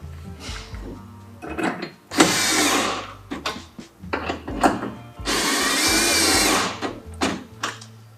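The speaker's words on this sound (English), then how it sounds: "We can go ahead and tighten down the front mounts here at the tracks." A power tool tightens the front rack mounts on a Jeep Gladiator's tracks, whirring in two long runs and several short bursts with clicks and rattles between, close and fairly loud.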